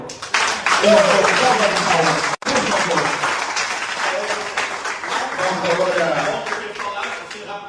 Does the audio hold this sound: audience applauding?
yes